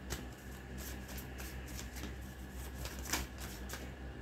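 A deck of tarot cards being shuffled, quick soft riffling flicks in an irregular rhythm, close and quiet, with a louder snap near the end.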